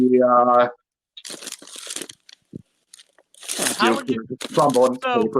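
Crinkly crunching close to a microphone, in short bursts between stretches of conversation, with people talking around it.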